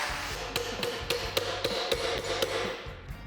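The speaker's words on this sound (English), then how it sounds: "make a little dolly tool that we can hammer the thing back into shape with" Sharp metal hammer strikes beat a dent back into shape against an improvised dolly tool in a custom garage, about ten irregular ringing blows over a few seconds, close and loud.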